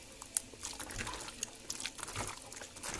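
Cooked corn kernels squeezed and rinsed by hand in a small amount of water for tortilla dough, giving soft irregular splashes, drips and trickles up close with no talking.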